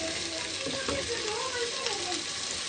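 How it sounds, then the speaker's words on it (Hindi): Chicken korma frying on slow heat gives a steady, even sizzle throughout, with someone talking over it. "स्लो स्पीड पे हम इसको फ्राई करते रहेंगे 10 मिनट।"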